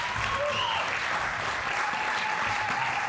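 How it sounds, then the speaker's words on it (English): Audience applause for pitch contest contestants walking back onto a conference stage, a dense, even roar of clapping from a large crowd throughout. "let's give them a round of applause"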